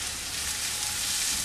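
Finely chopped onion sautés in a pan, a steady soft hiss and crackle of frying with no talk.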